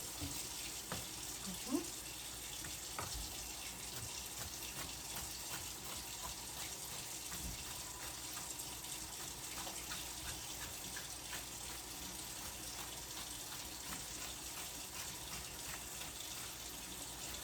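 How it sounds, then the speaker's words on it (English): Tap water running steadily into a sink over celery stalks, a continuous hiss and splash that holds at an even, fairly quiet level throughout, with occasional light knocks and no talking. "So you can reconstitute it just by running water over it."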